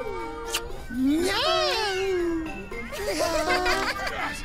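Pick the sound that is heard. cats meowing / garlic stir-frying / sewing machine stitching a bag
cats meowing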